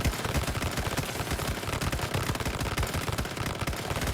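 A weapon firing continuously in the video game Once Human, a dense, rapid, unbroken stream of loud close shots for several seconds with no talking.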